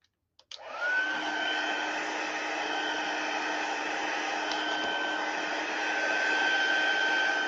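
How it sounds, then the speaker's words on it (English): An electric heat tool blows hot air onto a watercolor seascape painting, starting with a click and a brief ramp-up, then a loud, steady whooshing hum with a constant whine that holds for several seconds. "I'm gonna hit this with the heat tool for a second."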